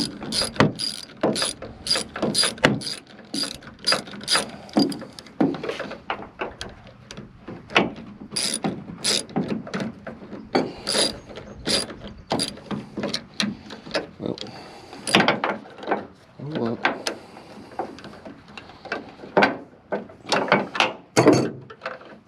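A ratchet clicks in rapid repeated bursts while tightening an anti-theft tailgate lock on a Ford F-Series truck, the close metallic ratcheting steady throughout with short pauses between strokes.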